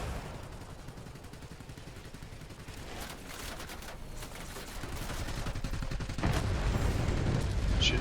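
Anti-aircraft emplacements in the air combat game World of Warplanes fire at a Tier VIII Russian Ilyushin IL-20 attack aircraft, producing a continuous rumbling barrage of rapid bursts that grows louder toward the end.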